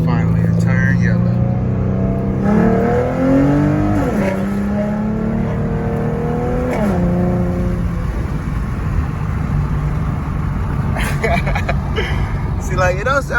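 A 2014 Ford Mustang with a Roush axle-back exhaust pulls away from a light, its engine rising through a couple of revving gear pulls before settling into a steady cruise, with a voice talking over parts of it.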